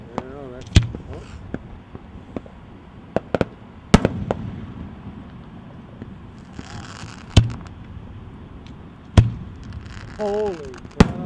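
Fourth of July fireworks burst along an ocean beach, sharp scattered booms and cracks at irregular intervals, some near and loud, others farther off, with crowd voices and chatter in between.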